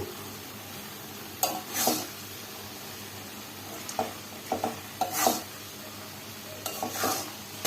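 Chicken and vegetables being stir-fried and mixed in a pan for chow mein-style noodles: a soft continuous sizzle broken by several sharp spatula scrapes and clatters at irregular intervals, close and with no voices.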